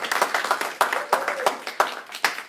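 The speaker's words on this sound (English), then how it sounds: "join me in giving Anthony a round of applause" Sparse, rhythmic clapping from a small audience welcoming a speaker onto a stage, a few distinct claps recurring at a steady pace.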